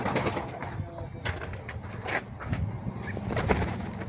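Pigeons cooing close by, soft throaty coos repeating over a few seconds among rustling movement, fairly loud and near.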